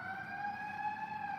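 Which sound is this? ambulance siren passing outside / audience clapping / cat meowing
ambulance siren passing outside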